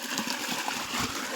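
Irrigation water flows slowly into a mustard field, a steady soft wash and trickle of running water close by, with no talking over it.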